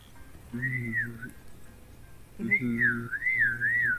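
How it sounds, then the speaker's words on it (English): A person whistles a wavering tune while humming a low voiced tone at the same time, two short phrases separated by a pause, close and fairly quiet. "It's just whistling and voicing at the same time, making the"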